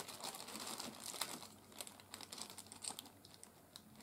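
Scissors snip and crinkle through a plastic pack holding vacuum cleaner tools for a new old stock Maytag Satellite. Close crackling plastic and small cutting sounds run on steadily with no talking.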